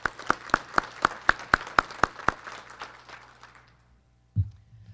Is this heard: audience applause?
yes